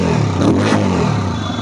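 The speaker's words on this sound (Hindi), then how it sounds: "तो यहाँ पे बाइक को स्टार्ट करते हैं" A TVS Apache RTR 160 2V Racing Edition motorcycle engine starts and idles with a deep, throbby exhaust rumble, briefly swelling as it revs up before settling back, close and loud.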